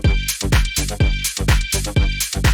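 A looped drum beat through a heavy compression return channel, loud and dense, with hard-hitting kicks and snares that sound squashed and gritty, driving a steady rhythm with no voices.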